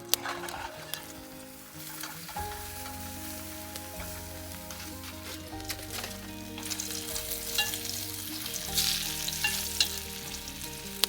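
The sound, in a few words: food sizzling over a campfire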